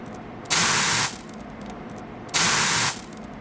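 Two short, loud hissing bursts of cleaner spray onto cotton swabs used for cleaning a helmet, separated by a brief quiet gap.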